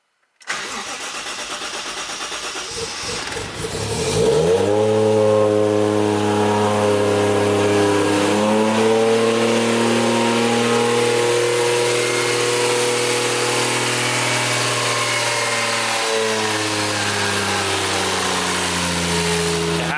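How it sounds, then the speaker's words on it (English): A 1JZ-swapped Nissan S13 engine cranks and catches, then jumps into a loud, high steady rev from the electronic throttle that holds with a slowly wavering pitch throughout. "A gnarly like high rev on startup due to the e-throttle"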